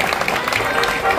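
An audience at a school exam-results ceremony claps for a class 6 student, a dense, continuous patter of applause filling the hall, fairly loud and close, with some voices mixed in.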